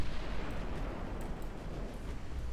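Naval gunfire in the Ultimate Admiral: Dreadnoughts warship battle game forms a dense, continuous low rumble of heavy artillery and explosions, loud and sustained, with no voices.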